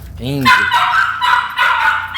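A pit bull gives a sharp, loud close bark, followed by whiny yelps, while a person talks over it.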